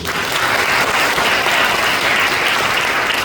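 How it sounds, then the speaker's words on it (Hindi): Loud, dense applause from a room of training participants, steady and sustained throughout with a faint crowd murmur underneath. "जोरदार तालियां बजाएं आप सभी।"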